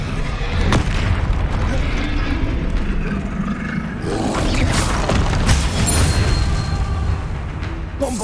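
Explosive spell blasts in Hogwarts Legacy, a loud, continuous barrage of booms and bursts with a sharp crack early on and a heavier surge midway, under game noise.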